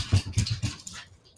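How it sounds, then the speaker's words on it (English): Several dogs make brief whimpering, yipping noises at close range, a quick cluster of short sounds that fades out after about a second. "So now we have 6 dogs."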